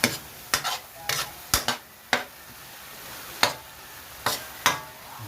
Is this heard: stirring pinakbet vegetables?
yes